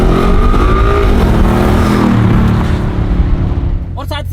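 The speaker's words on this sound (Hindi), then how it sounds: "फिर आपको साउंड भी सुनेंगे गाड़ी का" A Ford Mustang GT engine revs loud and close, a dense throaty roar with rising harmonics that holds steady before easing off, and a voice breaks in briefly near the end.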